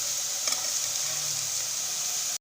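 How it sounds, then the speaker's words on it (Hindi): Grated carrots for gajar ka halwa fry in released oil in a pan, giving a steady soft sizzle throughout with a faint stir or clink early on, fairly quiet and close, no talking. "ये अब हमारी गाजरें देखें अच्छी तरह से भुन चुकी हैं, तो इसमें तेल निकल आया है।"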